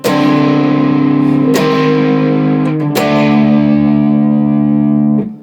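Heavily distorted electric guitar plays a loud, chugging riff of a few sustained chords with sharp changes, ringing out at the end.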